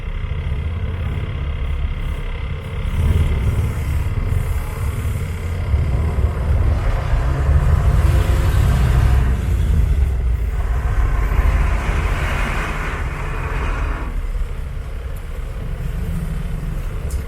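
Cars roll slowly along a village road in the Philippines, a loud, steady low engine rumble that swells and fades as vehicles pass close by.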